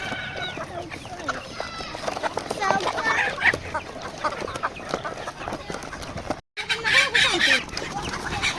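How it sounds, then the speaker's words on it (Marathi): Flock of hens and chicks feeding on azolla at a poultry farm, with constant close clucking and chirping, occasional louder squawks, and people talking over the birds throughout. "तर बघा पूर्ण कोंबड्या खाण्यासाठी आलेल्या आहेत"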